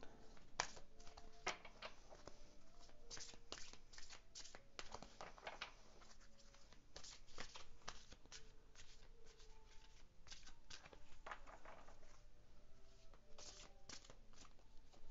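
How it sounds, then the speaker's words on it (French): Angel oracle cards shuffled by hand in a steady stream of soft riffling and flicking bursts, close and continuous with no talking. "pendant que je bats les cartes"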